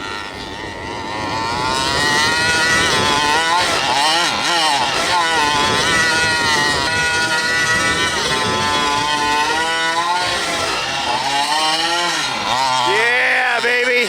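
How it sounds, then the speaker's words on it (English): A TMR performance engine runs steadily in an RC mega truck on a snowy winter night, a loud continuous buzzing drone with a shifting pitch that rises and falls, heard close throughout. "I got my TMR performance engine on the way. I gotta say, this one has been breaking in so nicely."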